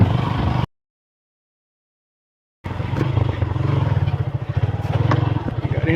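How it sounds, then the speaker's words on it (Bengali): A motorcycle rumbles loudly and steadily as it descends a steep, muddy, rain-soaked dirt hill road, its low engine drone pulsing with some clattering, and a gap of near silence cuts in near the start. "স্লিপ করতে পারে বাইক।"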